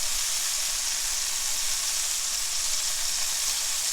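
Hamburger patties fry in a pan, giving a steady, even sizzle that holds unchanged throughout with no voices.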